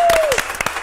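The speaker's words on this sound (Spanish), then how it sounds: "¡Aplauso!" Studio audience applause on a Colombian radio and TV interview set, a short burst of clapping right after a host's shout, with a brief tone fading out under it.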